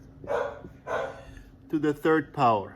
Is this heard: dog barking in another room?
yes